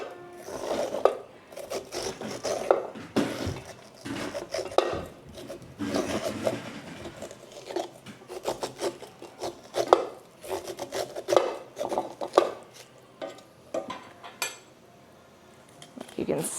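Sweet corn kernels scraped off the cob with a knife, giving repeated close, moist rasping strokes with brief pauses and light clatter against a dish or board, while a person speaks at times.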